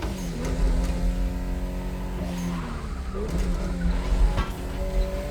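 Toyota Supra engine heard from the interior in the racing game The Crew Motorfest, a steady mechanical drone with rising and falling revs and gear changes, plus a brief tire-squeal moment, continuous and fairly loud.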